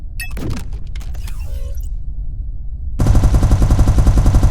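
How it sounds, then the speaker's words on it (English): Turret weapons in the video game SpaceBourne 2 open fire at a target: after a few scattered game effects, a loud, continuous rapid-fire burst of evenly spaced shots kicks in and keeps going. "Now, activate your turret weapon group and fire away."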